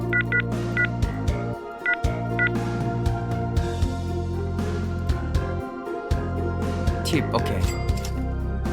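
Telephone keypad tones beep in short paired bursts while a number is dialed in a lost and found simulator game, over game background music with a person talking throughout.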